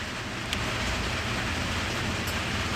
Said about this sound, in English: it's pouring down the rain